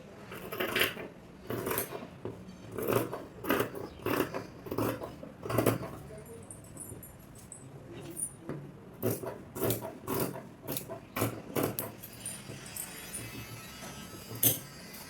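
Scissors cut through marked shirt fabric in a series of crisp, close snips and crunchy blade closures in an uneven rhythm, with short pauses between cuts and no talk.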